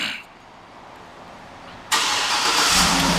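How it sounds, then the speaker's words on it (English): A 2009 Cadillac Escalade AWD starts by remote start, a quiet lull and then an abrupt engine catch that settles into a steady, fairly loud idle, with no voices. "And the car starts right up."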